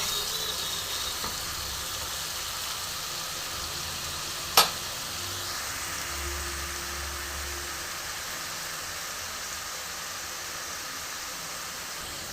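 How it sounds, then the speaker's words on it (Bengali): Onion garlic paste masala sizzles steadily in a pan over medium flame, a continuous even frying hiss with one sharp click partway through. "আমি মশলাটা কষবো এবার"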